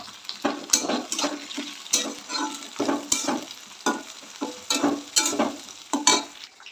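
Onion, garlic and tomatoes frying together in a pan, with a steady close sizzle broken by repeated scraping and stirring strokes in an uneven rhythm; no talk.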